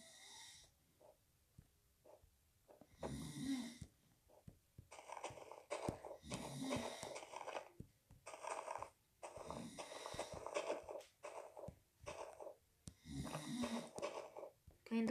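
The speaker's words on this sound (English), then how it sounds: "If you hear snoring, then, yeah, someone's sleeping." A sleeping person snores in slow repeated cycles, rasping inhales alternating with quieter pauses, close and fairly faint in a quiet room.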